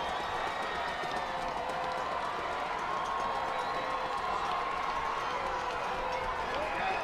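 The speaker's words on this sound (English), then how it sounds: "Crowd is into it." A high school football crowd at Chatard at Danville (2017) sends up a continuous roar of cheering and clapping across the stands, while a voice talks over the noise.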